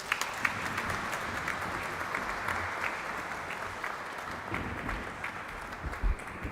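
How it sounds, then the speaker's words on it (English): An audience applauds and rises in a standing ovation for a professor after a memorial lecture at a science academy, broad sustained clapping filling the hall for several seconds with scattered louder claps. "Let's give once again a big round of applause, my friends, and a standing ovation"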